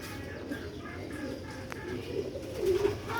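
Sialkoti pigeons cooing, with soft, low, repeated coos close by over a steady murmur of background noise and no talking.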